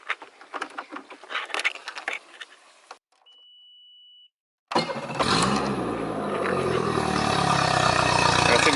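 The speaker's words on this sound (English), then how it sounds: "we are going to turn the engine on." A Tracker Pro Team 175 TXW boat engine starts up abruptly after a short electronic beep and then runs steadily and loudly, a continuous rumbling drone close by.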